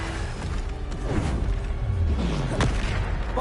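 Bombarda spell blasts in Hogwarts Legacy, a series of booming bursts with whooshing sweeps and sharp pops, loud and close amid continuous combat noise.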